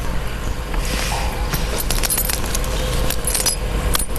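Car keys jangle continuously and close up in a dubbed horror comedy scene, a bright metallic rattle over a steady rumbling background.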